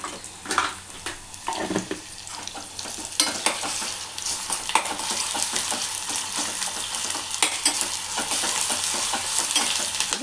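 Ginger garlic paste fries in a pan for a Telangana-style sour tamarind stew, with a bright continuous sizzle broken by repeated scraping and stirring strokes, close and alone with no speech.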